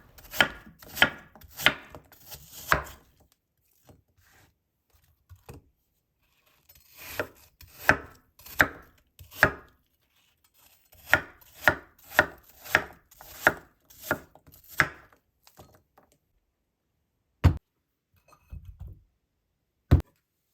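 Knife chopping peeled apples into small pieces on a board, with quick bursts of close, sharp chops separated by pauses and a few single strikes near the end.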